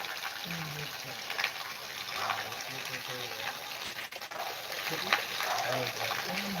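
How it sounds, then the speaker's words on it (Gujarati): Rushing, splashing water like heavy rain pouring down at a Ram temple, with a person talking intermittently over it. "લાઈવ વરસાદ જોઈ લો"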